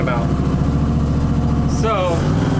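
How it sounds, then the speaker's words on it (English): A car engine runs steadily under throttle, with a metallic ting noise from the car riding over the close, continuous engine drone. "So you hear that ting noise? That's the noise I was talking about."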